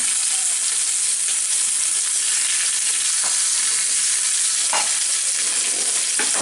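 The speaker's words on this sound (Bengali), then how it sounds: "এই মুরগিগুলাকে দিয়ে ভালো মতো একটু ভেজে নিই বাদামি করে ভেজে নিতে হবে" Chicken pieces fry in a pan on a stovetop until browned, for an Arabian chicken biryani (kabsa), giving a steady, close sizzle and hiss throughout with occasional stirring clatter, and no talking.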